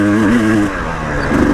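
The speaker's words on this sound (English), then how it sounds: "I'm much more comfortable on this bike doing fast stuff through whoops and stuff." Dirt bike, a Beta 300 Xtrainer or KTM 300 XCW two-stroke, ridden fast through whoops, its engine loud and close with pitch wavering and dipping as the throttle blips over the bumps.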